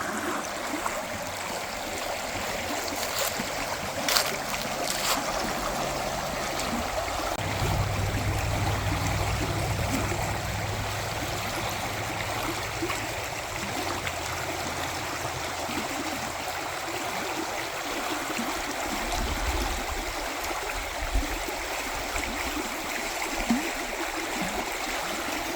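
Chatanika River in Alaska rushing past in autumn, a steady broadband flowing and gurgling wash close by, continuous for the whole stretch with a low rumble rising and falling and no talk.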